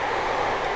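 A steady, continuous rumble of a running Class train in Train Simulator Classic on the Wherry Lines, broadband and fairly loud, with no pauses or voices over it.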